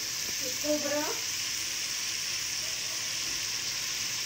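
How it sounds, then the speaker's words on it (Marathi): Spicy mutton curry fries in a pan with a steady, even sizzle throughout, moderately loud and close, with a brief voice-like sound near the start. "फ्राय करून घ्यायचंय."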